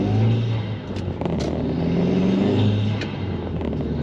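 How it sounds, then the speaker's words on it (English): An Audi TT's turbocharged engine pulls under acceleration from inside the moving car, a steady moderate drone with faint clicks and rattles over it and no voices. "Listen to that turbo."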